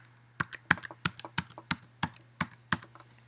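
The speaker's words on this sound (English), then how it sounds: "You'll enter the password in the WPA pre-shared key box." A password is typed on a computer keyboard: about ten crisp, close keystrokes in an uneven rhythm, with a few softer taps between them, against a quiet background.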